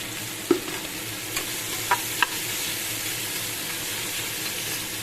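Food frying in a pan gives a steady hiss as it is stirred, with a few soft, brief scrapes and taps of the utensil standing out over the constant sizzle.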